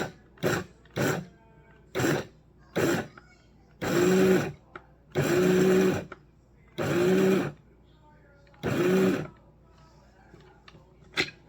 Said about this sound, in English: this is a coffee grinder, but I don't use this for coffee